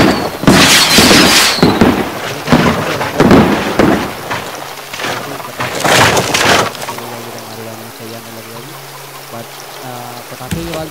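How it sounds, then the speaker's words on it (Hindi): Firecrackers and fireworks explode during a Diwali celebration in the Raft video game. Loud, crackling bursts come in quick succession, then die away into a quieter stretch with a faint tonal hum near the end. "पटाखे की आवाज बहुत ज्यादा इसीलिए आ रही है"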